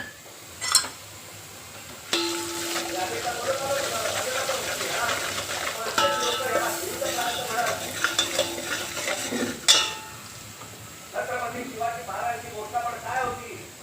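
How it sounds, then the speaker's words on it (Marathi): Garlic, onion, masala and red chilli fry in oil in a pan, a continuous close sizzle with utensil stirring and scraping throughout, and a voice talks over part of it. "तेल घालून घेऊया लसूण कांदा मसाला आणि लाल तिखट घालून घेऊया याच्यात"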